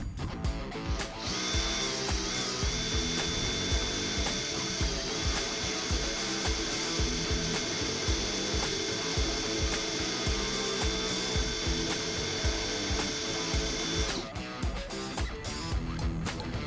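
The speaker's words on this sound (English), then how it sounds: "I'm going to drill in a little bit further with my slightly larger drill bit." A power drill with a slightly larger bit whines steadily and close for about thirteen seconds, grinding into a snapped-off steel bolt with a sustained high-pitched tone before spinning down.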